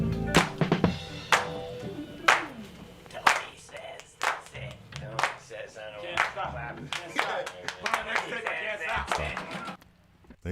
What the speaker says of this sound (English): They clap for so long they can't stop.